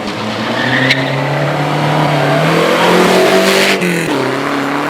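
A Lotus S4 Elan racing car accelerates hard up the Shelsley Walsh hillclimb, its engine note close and loud, climbing steadily through the revs before a brief gearchange dip near the end, then pulling on again.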